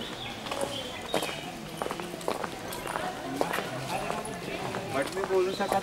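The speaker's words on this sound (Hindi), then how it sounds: "काठियावाड़ी नस्ल का घोड़ा सहराज" Hooves of a Kathiawari horse clip-clop in an irregular pattern on a riding path in Matheran, with a person talking over the steps.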